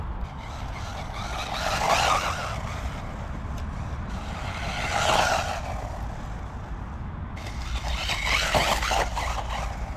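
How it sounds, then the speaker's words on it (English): A small beginner car driving past, engine note swelling and fading in three broad passes with some tire noise, fairly loud and steady with no talk. "That's a great little car."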